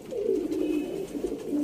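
Sialkoti 35-wala pigeons with silver wings, including males, coo softly and continuously at close range in a low, rolling murmur with no talking.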